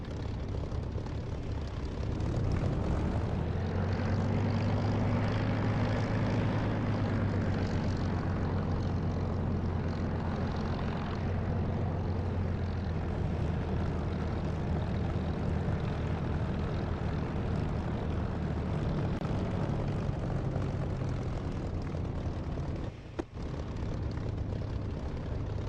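A propeller aircraft engine in a DCS or War Thunder flight sim throttles up for takeoff, a loud steady drone swelling early and holding a strong low hum, alone with no talk.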